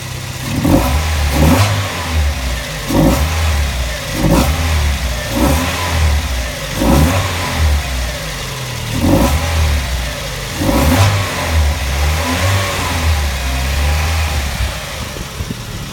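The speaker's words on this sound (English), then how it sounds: "I've started the car up just so you can hear it. What I'll do is I'll give it a quick blip." A car engine idles steadily, then revs in repeated quick blips, about eight sharp surges over a low rumble, close and loud with no talking.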